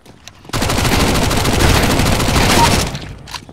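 Rapid, dense gunfire from Counter-Strike: Global Offensive, labelled as shotgun fire, loud and close, roaring continuously for about two seconds before cutting off into a quieter tail.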